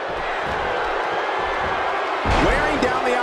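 An arena crowd roars at a basketball game, a dense sustained wash of cheering that swells louder near the end, with a commentator talking over it.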